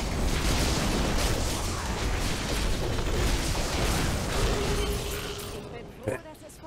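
Dense, rumbling Diablo 3 game noise with blasts and bursts of exploding enemies throughout, over voices talking, ending with a sharper pop near the close.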